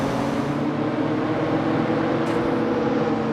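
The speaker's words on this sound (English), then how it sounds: "I'm hearing a lot of their engine." Rival DeLorean cars in a racing video game produce a continuous, steady engine drone that stays at an even level throughout the short stretch, with no voices.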